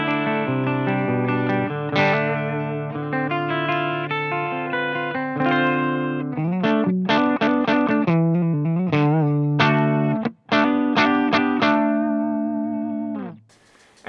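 Electric guitar runs through a Mesa Stiletto Deuce amp on its fat clean setting in 50-watt mode, with treble around one o'clock and gain and presence at halfway; full strummed chords and picked notes ring out alone with a brief pause.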